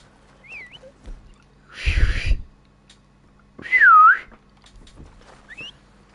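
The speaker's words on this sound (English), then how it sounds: "Stop whistling. Oh, and now I'm whistling." Whistling in the video game Red Dead Redemption 2, a few short sliding whistled notes separated by pauses, with a couple of louder breathy bursts between them.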